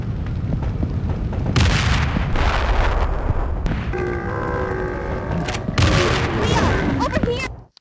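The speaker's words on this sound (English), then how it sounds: "A timed explosive device that could be used in succession" Grenade blasts in Resident Evil: The Darkside Chronicles, heavy rumbling booms with layered game effects and a short tonal chime, continuous and loud through most of the stretch, with a voice talking over parts.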